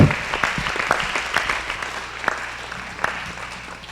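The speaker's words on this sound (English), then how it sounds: "Let's give everybody a great big round of applause." Applause at the 2019 North Central Regional Classic Show in West Fargo, North Dakota, rising as a burst of clapping that thins out and fades over a few seconds.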